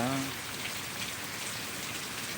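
Heavy rain driven by wind pours down steadily outdoors, a dense continuous hiss of drops on surfaces that holds at an even level, with a brief low voice fading out at the very start.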